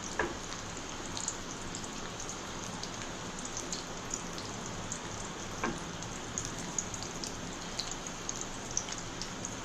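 Onion frying in oil with cardamom in a home kitchen, a steady soft sizzle with faint crackles running throughout at low volume, no voices.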